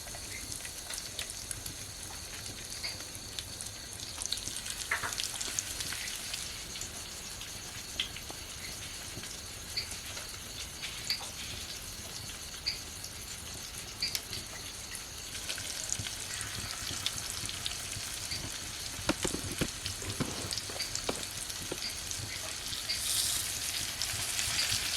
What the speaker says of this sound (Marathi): रव्याची कोटिंग चांगली सर्व बाजूने लावून घ्यायची आणि मग तव्यावरती फ्राय करून घेऊ